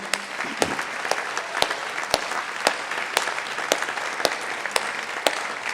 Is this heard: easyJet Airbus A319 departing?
no